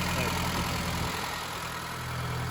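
A Honda Civic engine idles steadily with a newly fitted Weber carburetor, a continuous low rumble that stays close and even throughout.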